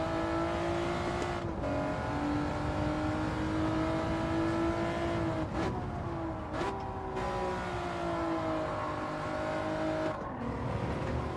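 Race car engine in a racing video game, a steady sustained drone that shifts pitch with brief drops around gear changes and backing off, loud and continuous throughout.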